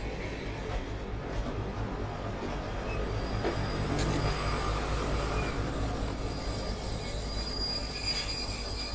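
A train in the video game Dark Deception rumbles continuously as its wheels screech and squeal against the rails, a loud, sustained metallic grinding throughout.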